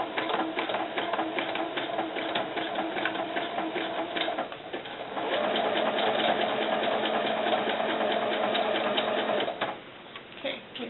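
Sewing machine stitching with orange thread while making doll belts and socks, a steady close mechanical whirr of rapid needle strokes that speeds up midway, then slows and stops near the end.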